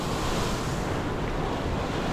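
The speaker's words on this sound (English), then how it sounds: "Got the waves crashing against the limestone here" Ocean surf crashes steadily against limestone rocks on the coast at Arecibo, Puerto Rico, a loud, continuous roar of waves mixed with gusting wind noise on the microphone.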